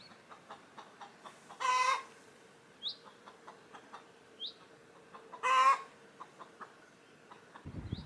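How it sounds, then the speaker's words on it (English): Backyard chickens making soft, scattered clucks in a quiet setting, with two louder rustling bursts and a few higher calls as they are fed; nobody talks. "I'm just going to go and feed the chickens because they need just some food"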